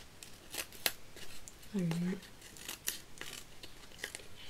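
Scissors snip through glue-coated card during a cat-themed card craft, a few short crisp cuts close by, with a brief spoken word and a low vocal sound in the middle.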